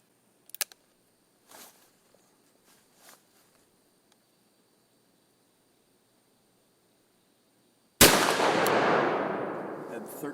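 A gunshot fired through a chronograph rings out as a single sharp, loud crack that decays slowly, preceded by several seconds of faint clicks and handling noises in a quiet setting.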